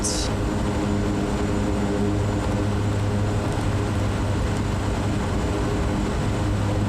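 SWS Kodiak 100 propeller aircraft climbing out in Microsoft Flight Simulator, a steady droning engine and propeller roar holding constant and loud throughout, with a brief high click at the start.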